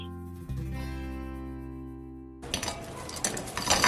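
Crispy fried chicken pakoda lifted from hot oil onto a plate, with a ringing metallic tone giving way to a burst of close clattering utensil scrapes and crackling oil, moderately loud, no one speaking.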